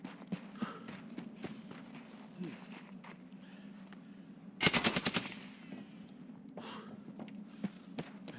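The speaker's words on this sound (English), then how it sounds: "I shot that guy right through the fucking fence." A short automatic burst of gunfire hits a player through a fence in Escape From Tarkov. Several rapid close shots cut loudly through a steady low hum, with scattered footsteps and clicks around them.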